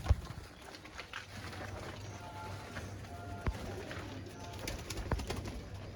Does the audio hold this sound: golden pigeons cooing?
yes